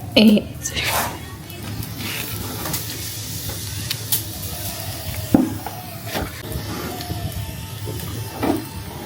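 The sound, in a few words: fish frying in a pan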